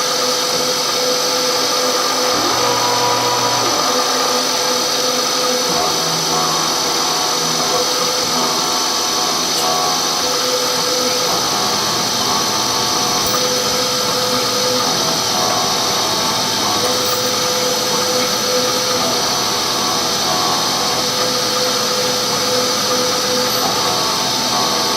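A machine runs steadily while holes are tapped in a workpiece for a hoglet, giving a loud continuous whine and hum that holds nearly unchanged throughout, with faint shifting tones underneath.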